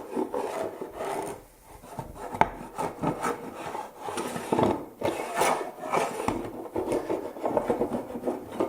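A bullnose plane, made from a Buck aluminum-frame plane with its front end cut off, scrapes dried glue nibs off a wooden shop-stand workpiece in a series of close, raspy rubbing strokes.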